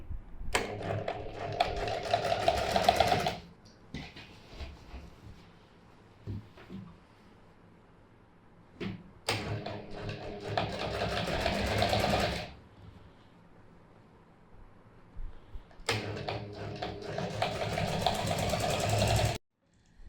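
A sewing machine stitching a shirt placket runs in loud close bursts of rapid needle chatter, stopping and starting three times with quieter fabric handling between runs.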